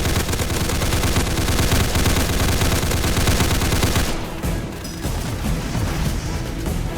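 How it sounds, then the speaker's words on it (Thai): Rapid automatic gunfire in the Roblox game Darkdriver, loud and continuous bursts for about four seconds, then thinner scattered shots and clatter in the background. "ไอ้นี่ก็ยิงอีกตัวไม่หยุดเลยนะ"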